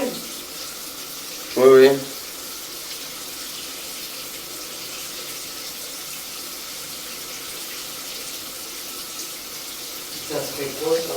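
Water runs from a shower tap as a steady, even rushing hiss for the whole stretch, with a couple of brief voices near the start and end.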